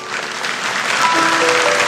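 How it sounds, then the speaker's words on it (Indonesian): A church congregation claps during a sermon, a brief, loud, even burst of many hands that swells slightly toward the end. "Kasih tepuk tangan untuk Tuhan Yesus."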